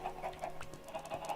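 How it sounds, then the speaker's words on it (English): Chickens cluck softly and repeatedly in the Minecraft video game, a series of short, quiet clucks spaced through a faint background. "Time to clean out Daddy's house of chickens."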